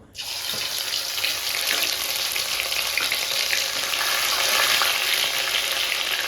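Ginger-garlic paste hits hot oil for a koi fish curry and erupts into a loud, steady sizzle that holds evenly for several seconds with no talking.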